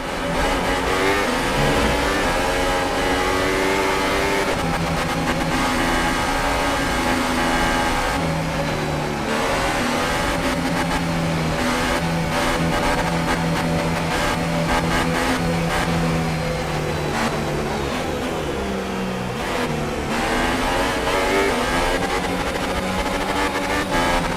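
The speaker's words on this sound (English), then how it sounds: "We need to stay in formation and start bringing the car up to temperature, please." A Formula 1 car in F1 2018 runs a Toro Rosso formation lap to warm its tyres. The engine roars continuously and loudly, revving up and down through the gears with no gaps.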